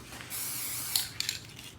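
A spray paint can lets out a soft, continuous hiss for well over a second, fairly quiet and close, with a couple of faint clicks near the end.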